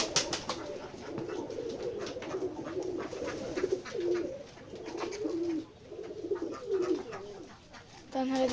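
Pigeons on a farm coo in repeated soft, throaty calls, several birds overlapping close by, with faint rustling and occasional wing flutters throughout.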